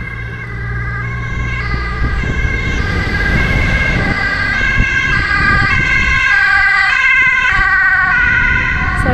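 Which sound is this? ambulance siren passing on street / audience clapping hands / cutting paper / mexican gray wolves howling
ambulance siren passing on street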